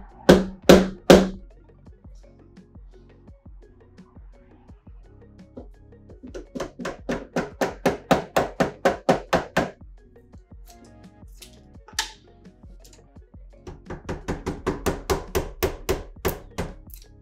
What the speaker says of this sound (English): We're gonna chisel out this area.